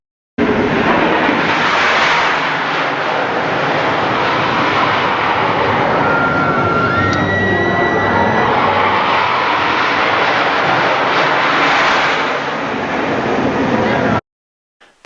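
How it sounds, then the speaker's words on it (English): Steel train wheels running through a curving section of track, a loud continuous rumble throughout with a rising metallic squeal in the middle, then an abrupt stop near the end. "the actual sound is coming from the track turning and the steel wheels"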